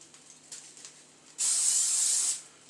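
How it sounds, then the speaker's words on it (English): Cooking spray hisses from an aerosol can into a pan while food cooks, one steady burst of about a second near the mic after a quieter stretch of kitchen sound. "Add some more spray to that because we do not want it sticking over there either."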